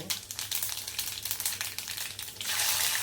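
Mustard seeds and cumin crackling in hot oil in a kadhai, a rapid run of sharp close pops and spits over a steady sizzle that swells louder in the last half-second.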